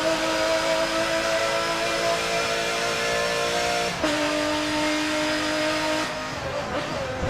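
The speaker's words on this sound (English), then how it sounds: "Just listen to that engine." A Ferrari F-158 Formula 1 car engine in the Forza 7 video game drones at high, steady revs with sustained harmonic tones, shifting pitch briefly near the end.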